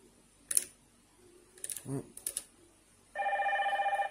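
A Hikvision IP PoE intercom plays one of its preset doorbell ringtones near the end, a steady electronic pulsing chime after a few scattered clicks and taps from handling the unit, fairly quiet and close.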